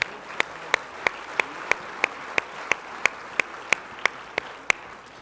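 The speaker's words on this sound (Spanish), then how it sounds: "Un fuerte aplauso, por favor." An audience at a council meeting applauds two guests, sharp evenly spaced claps standing out in a steady rhythm over a soft, hissy crowd wash.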